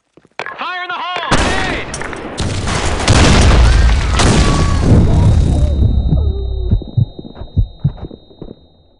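A grenade blast in the online shooter BlackShot: a loud, close, broadband explosion with a rumbling, crackling tail that slowly decays. Short tonal chirps come before it, and a thin ringing tone lingers afterward.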